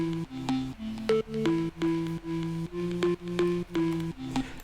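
An organ synth preset in Nexus plays a bouncy 90s house chord riff, stabbing in a steady syncopated rhythm, clear and up front with no talking.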